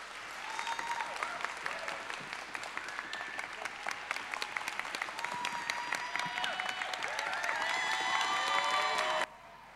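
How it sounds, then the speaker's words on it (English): A lecture audience breaks into warm, sustained applause for a speaker: dense, even clapping from a large crowd with scattered cheers, holding steady for several seconds before cutting off abruptly. "please give a warm round of applause to Zineb"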